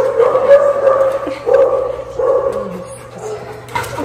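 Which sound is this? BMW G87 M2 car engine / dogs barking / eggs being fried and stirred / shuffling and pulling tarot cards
dogs barking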